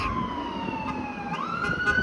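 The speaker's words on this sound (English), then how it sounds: "I have to yell over the stupid motherfucking ambulance siren" An ambulance siren on a city street in the Weston neighbourhood along Lawrence Avenue West, a wailing tone that slowly falls then rises again over steady traffic rumble, fairly close and loud.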